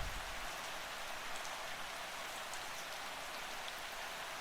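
Rain falls in a soft, unbroken hiss of fine drops, steady and fairly faint throughout with no pauses, no other sounds and no voices.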